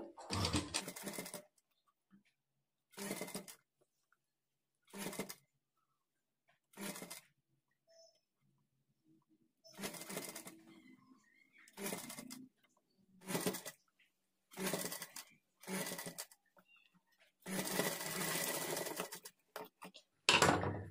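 A sewing machine stitches frills onto puff sleeves in repeated bursts of rapid mechanical whirring, short runs separated by pauses, close and clear, with a voice talking in the gaps.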